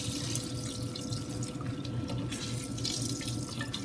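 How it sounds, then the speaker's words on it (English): Whey streams and drips steadily from a twisted cheesecloth of freshly made paneer, a continuous close watery trickle like a running tap, with no talking. "now I'm just twisting it so that it can squeeze out the whey some more"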